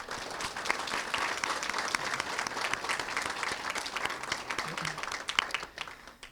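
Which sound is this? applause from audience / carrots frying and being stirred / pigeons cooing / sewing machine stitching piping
applause from audience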